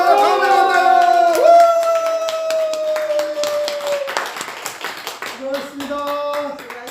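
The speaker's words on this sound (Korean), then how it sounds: "자, 우리 하나님께 영광 박수 올립니다." Audience applause closes a Korean laughter-therapy session as people clap in praise, with a voice speaking over the clapping, which fades while music-like tones continue.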